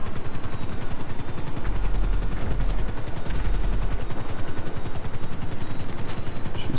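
Rapid automatic gunfire in GTA 5 Online rattles in a fast, steady stream of close, loud shots, with a low rumble like a helicopter beneath it.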